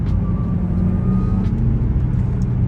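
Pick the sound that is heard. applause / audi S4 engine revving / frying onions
audi S4 engine revving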